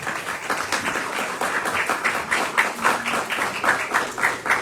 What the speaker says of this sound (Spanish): Otro aplauso para Jochi Herrera